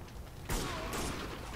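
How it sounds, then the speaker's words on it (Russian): Machine gun fire in the war shooter Spec Ops: The Line, a sudden loud broadband burst starting partway in and sustained through the rest, with a second surge midway, dense and close. "О, пулемет."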